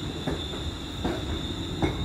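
A six-carriage train arrives at Gourock station, a low rolling rumble with rhythmic wheel clacks over rail joints and a faint high whine, moderately distant and steady.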